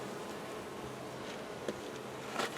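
Honey bees buzz around hive frames, a dense, steady hum of many wings close by, with a few louder passes near the microphone.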